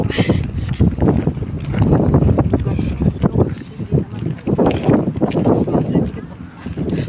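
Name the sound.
wind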